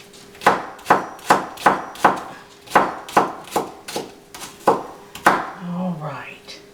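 Sharp knife chopping an onion on a board, a steady series of about a dozen crisp close cuts at a brisk rhythm, ending with a short bit of talking.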